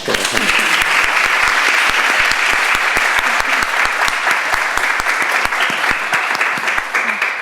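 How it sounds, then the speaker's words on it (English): Dense, steady applause from an audience at a panel discussion on breastfeeding science, filling the room close and loud for the whole stretch as the event closes, with no voices over it. "Yeah, a round of applause."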